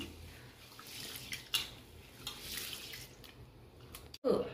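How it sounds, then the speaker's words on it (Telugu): Water poured over rice and black gram to soak them for dosa batter: a soft, steady splashing with a few brief knocks, ending in a louder close clatter. "నానే వరకు మంచిగా వాటర్ పోయాలి, పోసి మంచిగా మూత పెట్టేసుకోవాలి"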